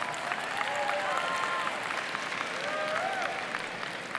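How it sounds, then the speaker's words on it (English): An audience claps steadily in a hall, a dense, even patter of many hands at moderate distance that holds without letting up. "Oh, some claps there."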